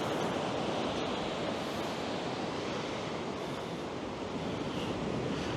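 Waves wash onto a clean beach in a continuous, dense roar of surf with some wind noise over the microphone, steady and fairly loud throughout with no distinct breaks.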